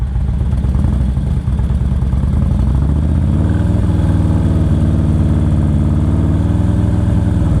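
A motorcycle engine runs close and steady during slow-speed riding practice, idling with a rough, throbbing pulse that settles into a smoother, slightly higher drone partway through.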